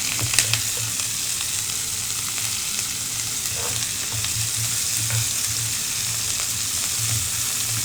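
Broccoli hits a pan of spicy carbonara tteokbokki and sizzles steadily up close, a continuous bright crackle with faint scraping stirs and small bumps, and no talking.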